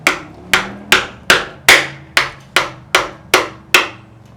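A hammer strikes stuck bolts during the teardown of a Nissan RB25DET engine block from an R33, ten loud, evenly spaced metallic blows ringing briefly after each hit.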